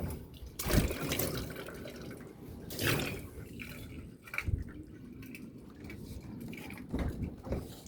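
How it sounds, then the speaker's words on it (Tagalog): Water poured over a freshly resealed section of a leaking roof gives faint splashing and dripping, with a few louder gushes among quieter trickles. "binuhusan uli natin para ma-sure na wala nang tagas doon sa loob"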